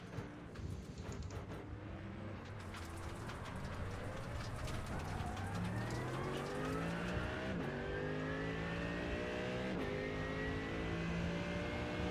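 Several GT3 race cars in a racing video game roar together, their engine notes climbing through the gears with audible upshifts, loud and continuous and close to the listener.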